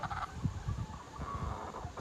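Hens of mixed breeds, Brahmas, Polish, Americanas and Buff Orpington, clucking and murmuring steadily up close in a flock.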